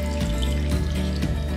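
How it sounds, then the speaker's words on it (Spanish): Water poured steadily into a pot over dry beans set to soak, a close, continuous splashing flow with dense gurgling. "Para eso le vamos a poner agua"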